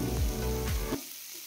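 Browned onions sizzle steadily in oil in a kadai as they are stirred and lifted out, and the frying noise cuts off abruptly partway through.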